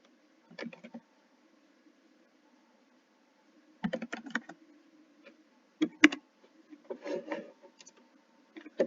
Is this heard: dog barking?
no